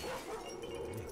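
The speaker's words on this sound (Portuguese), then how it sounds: "Cão infernal, sai fora." A hellhound from the horror video game Layers of Fear gives a short, low dog-like growl or snarl, a single brief burst set against a murky game ambience.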